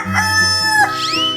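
A cartoon chicken crows and clucks in a 3D animal slide game, one short bright call with a rising squawk at the end, close and clear over a steady low game-music bass.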